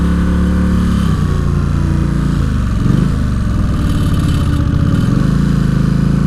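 A 2003 Kawasaki Vulcan VN1600 Classic V-twin rumbles loudly and steadily on the road, its engine note dipping and rising as it shifts from first into second gear, with no talk over it.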